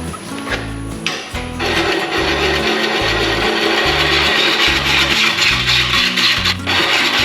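Wood lathe turning a large workpiece as a tool cuts into it, a loud nearby scraping rasp in repeated pulsing strokes over a low rhythmic rumble, with a brief pause near the start.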